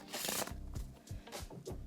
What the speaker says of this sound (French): on peut bien évidemment mélanger le paquet.